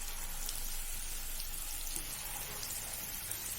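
Mutton kofta balls frying in hot oil previously used for browning onions, a soft continuous bubbling sizzle that stays even and moderately quiet throughout.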